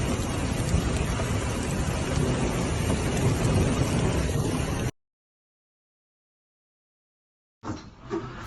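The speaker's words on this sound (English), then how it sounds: "called the storm one of the most intense episodes of sudden rain in recent years" A thunderstorm brings sudden heavy rain, a dense, loud roar of downpour that holds steady, cuts out, then comes back with gusty rumble and wind buffeting.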